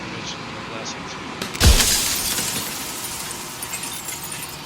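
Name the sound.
mirror shattering in video game Slay the Princess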